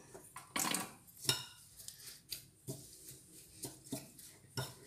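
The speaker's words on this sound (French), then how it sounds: "Ensuite, vous mélangez le tout." A spoon stirs oat flakes in a muesli mixture in a bowl, giving faint, irregular clinks and scrapes against the dish with quiet gaps between them.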